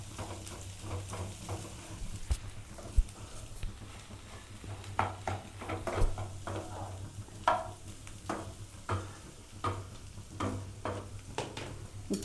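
A ladle stirs and scrapes aloo paratha filling in a pan, with repeated soft clinks and scrapes at an irregular rhythm over a faint sizzle, close and quiet.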